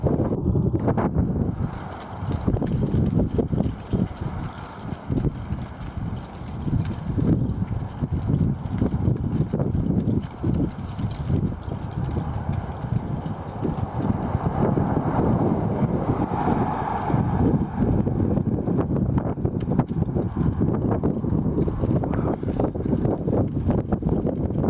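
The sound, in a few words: strong wind gusts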